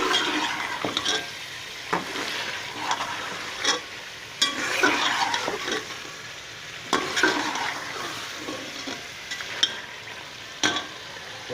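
Potatoes being stirred into cooked beef inside a pressure cooker, with repeated scraping and clattering strokes over a soft continuous sizzle, close and moderately quiet.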